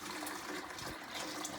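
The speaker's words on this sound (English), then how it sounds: "all the extra water drains out" Leftover water drains out of a toilet tank as the old fill valve is removed, a continuous close, hissing gush and trickle of water, with no talk.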